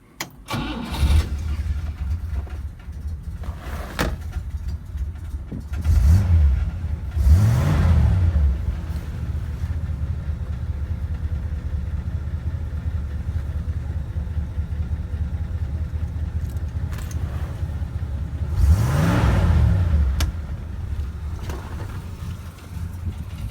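The V8 engine of a 1963 Superior Pontiac Bonneville ambulance cranks and fires, then idles with a deep rumble, punctuated by a few loud revs that rise and fall, heard up close.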